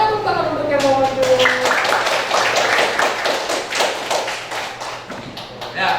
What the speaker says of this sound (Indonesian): tepuk tangan untuk yang mau maju